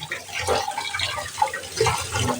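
Water splashing and running over an iron kadai as it is rinsed, a close, loud, continuous wash with small gurgles, no voices.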